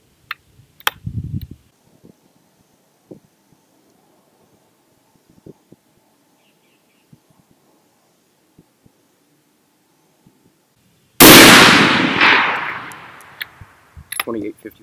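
A 6.5 Creedmoor precision long-range rifle fires a single sharp, loud shot that rings out and decays over a few seconds, after quiet handling clicks and a short burst of speech.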